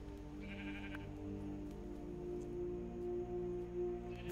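A Minecraft sheep gives a short, faint bleat early on, set against a steady hum of game background music and ambience.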